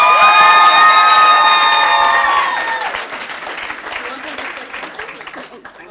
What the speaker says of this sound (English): Let's applause for him again.